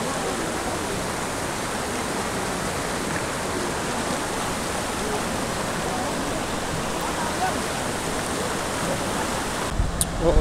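Constant roar of the Palakol River rushing beneath a high bridge, a dense steady wash of water heard close throughout, with a short knock at the end.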